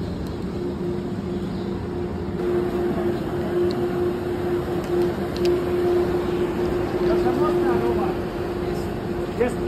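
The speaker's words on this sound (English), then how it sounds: "This is the train to Mostar, guys." A train to Mostar idles at a Yugoslavian railway station, giving a steady low rumble and a constant engine hum that holds evenly throughout.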